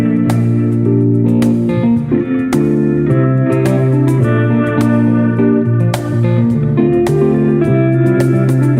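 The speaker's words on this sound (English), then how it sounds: "they're going to play a track live for you now" Full band music plays live, with dense sustained chords and steady rhythmic hits running loud and continuous throughout, no talking.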